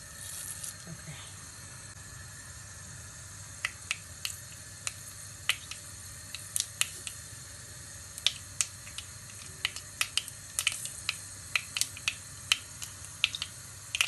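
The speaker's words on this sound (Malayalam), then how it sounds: "കടുക് പൊട്ടുന്നുണ്ട്." Mustard seeds pop in hot coconut oil in a pan for Palakkad-style Kerala fish curry: sharp, quiet crackles, sparse at first and then more frequent and irregular, over a faint sizzle.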